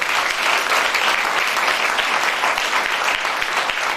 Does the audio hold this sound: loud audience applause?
yes